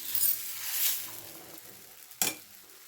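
Pesarattu, a moong dal dosa, sizzling in oil on a pan, with a bright crackling hiss that swells and fades, then a short sharp burst of sizzle near the end.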